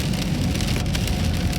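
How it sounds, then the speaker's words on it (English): Steady rain patters on a car's roof and glass, a dense, even hiss with faint drop ticks, close and continuous, no voices. "it might be raining for a while for me"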